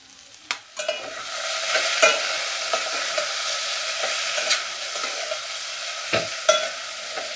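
Cauliflower, green peas and chili stir-fried in a pan over low heat: a soft steady sizzle broken by repeated sharp scrapes and knocks of the spatula, close and alone.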